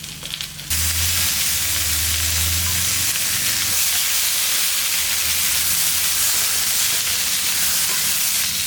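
Sliced onions and tomatoes with urad dal sizzle and fry steadily in a pan for chutney, a loud continuous hiss with no talk after a brief quieter start.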